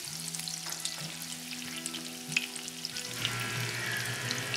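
Breaded veal cordon bleu fries in a pan over a gas flame, a close steady sizzle with soft crackles and a faint hum, growing brighter and denser toward the end, with no talk.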